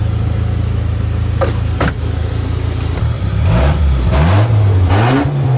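A truck engine idles and runs while warming up in a snowy yard. A steady low rumble gives way to rising and falling revs, loud and close, with no talk over it.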